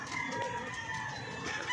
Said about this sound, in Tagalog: Ayun yung ibon natin.